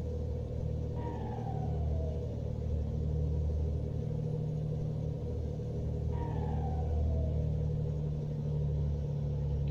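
Modded truck engine from a truck driving video game, a steady deep roaring rumble, with two short rising-then-falling tonal sweeps like gear shifts or revs over the drone, no talk.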